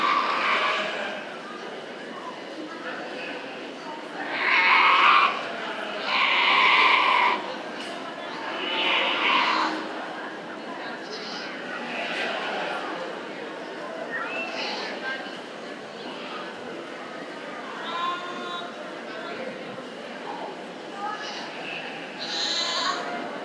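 Goats bleat repeatedly in a 4-H livestock show barn in Williamson County, the calls rising in loud bursts and then fading, with an announcer speaking over them throughout.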